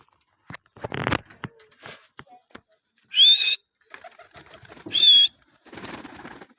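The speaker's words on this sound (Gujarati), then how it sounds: "કબૂતર નીકળવા માંડ્યા હે" Wings flap in quick bursts as pigeons are released from a cage and take off, between two clear, loud whistles, with quiet gaps of near silence.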